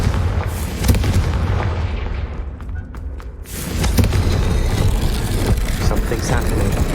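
A Confringo fire spell erupts in the video game Hogwarts Legacy: heavy booming blasts over a dense, loud rumble, easing briefly before another burst swells back to full strength.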